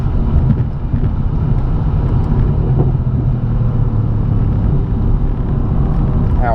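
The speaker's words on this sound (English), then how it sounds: "Let's give it a little gas on this straightaway." A Mercedes sports car pulls along a straightaway, its engine a loud, steady low rumble heard from inside the cabin, with no clear rise in pitch and no talk.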